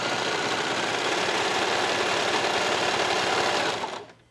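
A serger sewing machine runs steadily along a fabric side seam, a loud, continuous mechanical whir that holds for several seconds before winding down and stopping.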